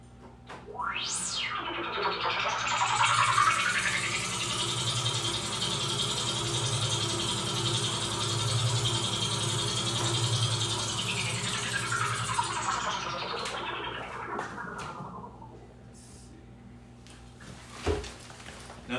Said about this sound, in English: this is the sound of their spaceship that would fly through the earth